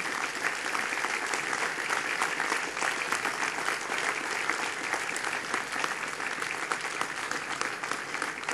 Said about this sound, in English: Let's give them a round of applause for what they do and who they are.